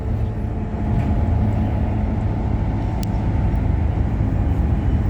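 Interior of unrefurbished TransBunbury bus 1492 on route 826 in Bunbury, with a steady low engine drone and road rumble throughout, no talk.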